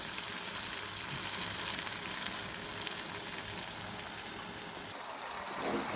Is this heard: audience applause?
no